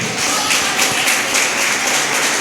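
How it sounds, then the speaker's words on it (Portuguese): A church congregation claps loudly and continuously, a dense wash of hand claps filling the space. "Aplauda o Senhor."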